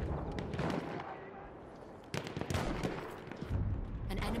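Artillery fire in the World War I shooter Battlefield 1 comes as a sharp blast at about 2.1 seconds, with a second thump near 3.5 seconds, over a steady din of distant battle noise and gunfire with voices talking.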